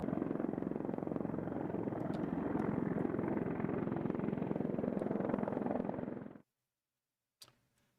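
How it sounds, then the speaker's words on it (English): Mi-28 military helicopters over the Donetsk area give a loud, steady rotor drone with rapid blade chop that runs for about six seconds before cutting off abruptly, followed by a faint click. "these are Mi-28s operating in the Donetsk area"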